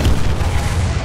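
M103 tank cannon fire in War Thunder, a deep booming blast with a heavy low rumble that fills the whole second, loud and close with no talk over it.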